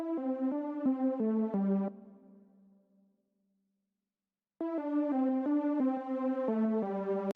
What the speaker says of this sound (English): So these supporting chords sound like this